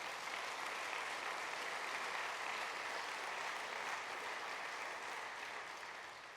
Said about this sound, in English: And I'm glad you can clap for me.